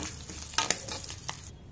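Curry leaves hit hot tempering oil for a mango raw tamarind soup, giving a short burst of crackling sizzle with a couple of sharp pops and stirring scrapes, close and alone.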